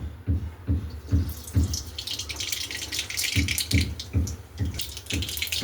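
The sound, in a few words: mustard seeds crackling in hot oil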